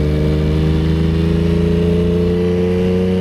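Yamaha XSR900 motorcycle engine holding a loud, steady high-revving drone during a wheelie, close and continuous with no talk.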